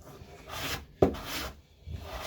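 A blade shaves wood on a guitar neck, giving a few soft scraping strokes, close and fairly quiet, with one sharp knock partway through.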